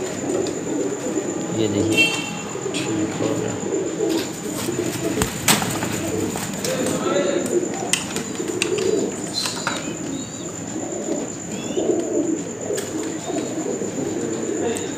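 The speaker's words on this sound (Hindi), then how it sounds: "ये कसूरी कबूतरी है, गोल्डन आप कह सकते हैं इसको" Golden Kasuri pigeons coo softly through a steady murmur of birds, with occasional chirps and a brief wing flutter, while someone speaks over them.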